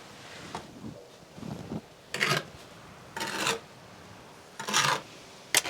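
Thick lime plaster is spread onto a wall in a coach house restoration. Rough scraping strokes of a trowel come in several separate bursts, with quieter rubbing between them.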